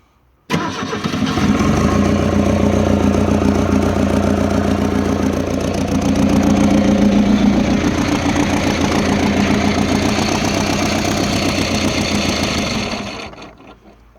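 A rescued excavator's diesel engine cranks and catches, then runs roughly with a steady knocking rumble for over ten seconds before dying out, loud and close with no talk.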